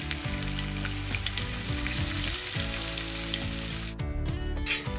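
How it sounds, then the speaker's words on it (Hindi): Aloo egg pakoda frying in hot oil makes a continuous, loud, bubbling sizzle with no pauses. A tonal musical backing plays underneath throughout. "अंडा पकौड़ा अच्छे से फ्राई हो चुके हैं"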